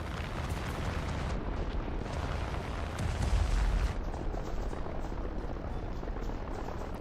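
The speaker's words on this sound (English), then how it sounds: "so there goes the torpedo" A dropped torpedo detonates in a naval combat video game, heard as a long, loud rumbling blast that swells into a heavy boom mid-way and then rolls on as dense, steady explosive roar.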